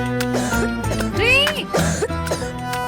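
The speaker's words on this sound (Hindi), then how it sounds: "खांसी अब, राहत कब?" Harsh coughing from a person with a cough in a Hindi cough syrup advertisement, a few loud close bursts over a backing music bed.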